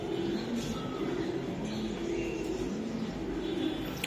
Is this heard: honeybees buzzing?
no